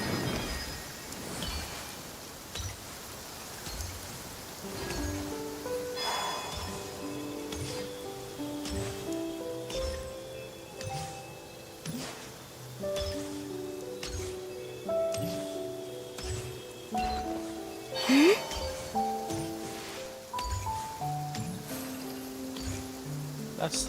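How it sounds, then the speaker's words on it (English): Steady rainfall in a video game, the world of Genshin Impact, with occasional distant thunder, running beneath a background voice and soft melodic music throughout. "Taking shelter and listening to the rain cleanse the earth makes me feel safe."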